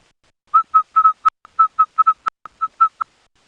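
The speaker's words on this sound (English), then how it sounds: "I can hear a red-crested cron calling off in the distance" A red-crested korhaan calling in the wild, a clear series of about fourteen evenly spaced whistled clicking notes, sharp and steady, with no other sound behind.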